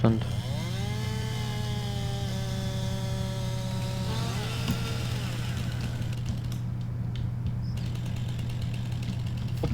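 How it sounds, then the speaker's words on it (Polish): Chainsaw cutting into a tree in Farming Simulator 19, a steady buzzing engine drone running throughout with rising and falling whine, while people talk over it. "Patrz to, to już tnę, już tnę ja."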